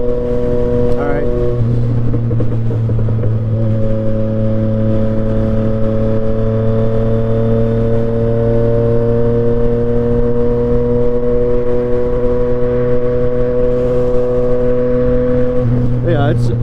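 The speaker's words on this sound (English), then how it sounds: "every time I hop on it, this is my 24 Mt-09" A 2024 Yamaha MT-09 motorcycle engine while riding, a loud, steady droning hum with sustained tonal harmonics at a near-constant pitch and slight shifts, heard up close for the whole stretch.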